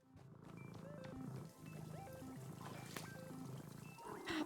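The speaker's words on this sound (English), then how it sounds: "I just heard purring from the radio in the game" A cat purring through an in-game radio in the video game Wanderstop, a soft continuous rumble sitting under gentle game music and tonal chimes throughout.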